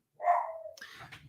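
A single drawn-out, whining bark from a pet dog indoors, close and fairly loud, trailing off into a short breathy huff.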